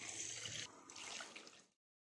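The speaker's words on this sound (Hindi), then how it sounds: "इसमें पानी डाल दें" Water poured into fried masala in a pan while cooking korma, a steady hissing, gurgling pour for under two seconds that stops abruptly, close and moderately quiet.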